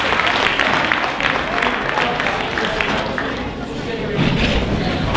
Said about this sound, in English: How about a big round of applause for the Kurn Hattin Select